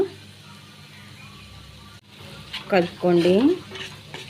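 Cucumber chutney mixture with salt being stirred in a pan: a low, steady background scrape, then louder stirring bursts in the second half, joined by a brief voice.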